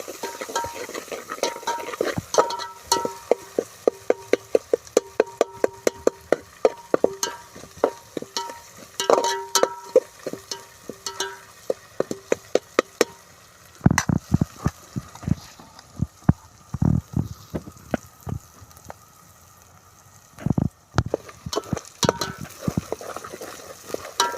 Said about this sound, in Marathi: आता तेलामध्ये मसाला शिजला आहे